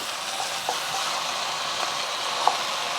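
Onions and ground beef fry in a pan with a steady, close sizzle and occasional small pops and crackles, no voices over it.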